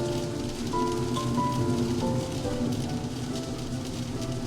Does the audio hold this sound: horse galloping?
no